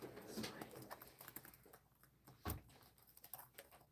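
Faint typing on a computer keyboard indoors, a loose run of light key taps scattered unevenly under low room sound, with no clear speech.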